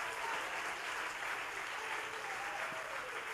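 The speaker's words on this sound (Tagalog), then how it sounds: "Kanang palakpak nga para sa Dios." A church congregation claps for God during a Bisaya sermon, giving a dense, steady wash of applause that holds at an even level throughout, with no voices standing out.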